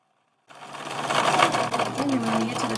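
A sewing machine stitches through fleece. After a brief silence it starts up into a close, steady mechanical whir with a rapid needle rhythm that carries on to the end.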